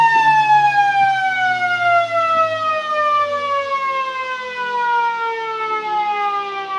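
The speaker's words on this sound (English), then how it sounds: "And there's a siren." A loud, sustained siren wails at a country Australian rules football ground with a steady falling pitch, continuous for the whole stretch with faint crowd noise beneath.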